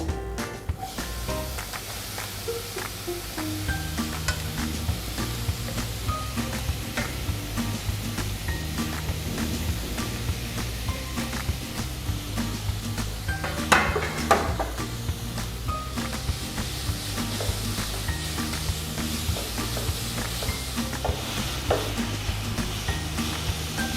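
Grated beetroot and carrot fry in a pan for a beetroot cutlet, a steady close sizzle broken by the scrape and clatter of stirring, with a brief louder clink of a utensil partway through.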